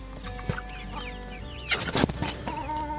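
Chickens cluck and squawk close by, getting more agitated midway with a flurry of sharp, rapid calls as a hen lashes out at newly added chicks.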